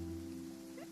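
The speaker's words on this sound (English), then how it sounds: "It's raining." Steady rain in the Genshin Impact video game, a continuous hiss carrying alongside a low tonal music bed, with a brief rising chime near the end.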